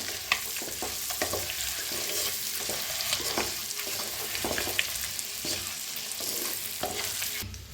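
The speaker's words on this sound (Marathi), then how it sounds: "आता छान असं फ्राय झालेले आहेत अंडी." Eggs frying and being stirred in a pan with masala for egg curry: a steady, dense sizzle with repeated scraping and clacking stirs, close and continuous, no talking.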